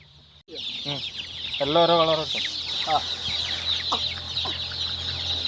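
Dyed chicks, sold as coloured chicks, chirp and cluck near a seller in a busy market, with bursts of peeping over steady background bustle and some voices.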